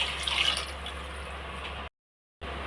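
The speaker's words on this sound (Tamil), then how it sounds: "இப்போ தண்ணி இவ்வளோ சேர்த்துக்கலாங்க." Water being poured into rice in a pot for paneer pulao, a steady close splashing pour that cuts off abruptly, then resumes briefly.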